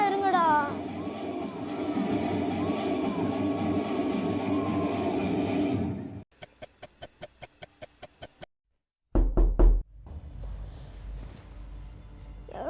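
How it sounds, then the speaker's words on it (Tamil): A door is knocked on during a New Year celebration at home: loud music plays, then cuts off, and a rapid run of about eight sharp, evenly spaced knocks rings out, followed by louder thumps and room noise. "யாரோ கதை தட்டின மாதிரி இருந்தது."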